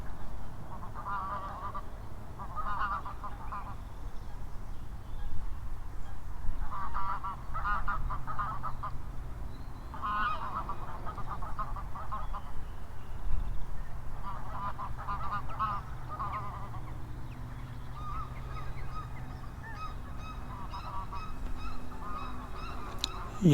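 Geese honk repeatedly in bursts at a clay pit waterfowl sanctuary, a busy flock calling over a steady outdoor background, some calls close and loud, others farther off.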